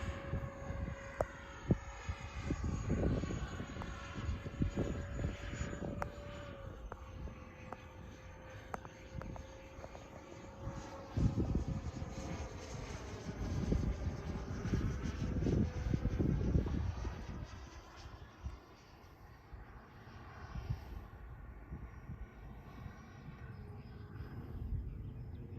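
A Freewing B-2 Spirit RC jet bomber with twin 70mm electric ducted fans passes down a runway, a steady whining fan roar with a sustained high tone that swells and fades as it flies by, with no talk.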